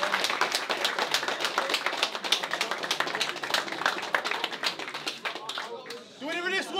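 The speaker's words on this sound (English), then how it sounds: "round of applause for that one." Audience applause at a live brawl event, a dense run of claps spreading across the whole moment, loud and continuous, fading toward the end as voices come through.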